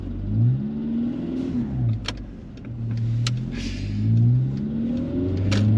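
A videographer's first car revs hard and accelerates, its engine pitch rising and falling in repeated swells, loud and close, with a few sharp clicks and knocks over the roar.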